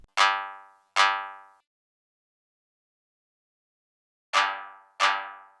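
Four short pitched, ringing plucks with a metallic resonant tone from a delay effect used as a tuned resonator, two in quick succession, a long silence, then two more, each decaying quickly.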